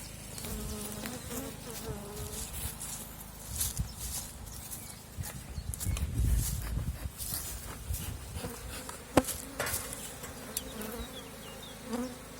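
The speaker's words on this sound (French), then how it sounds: "s'il y a une ou deux abeilles, c'est pas très grave" Dense, steady buzzing of many honeybees close by in an opened hive during early-spring varroa treatment, a continuous droning hum with occasional louder passes and faint handling knocks.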